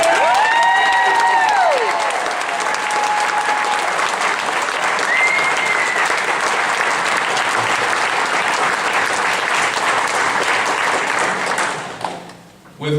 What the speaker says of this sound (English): I'd like to give one last good round of applause for Alan Reeves Jr., Lever 822, who will be the next mayor of Eddystone.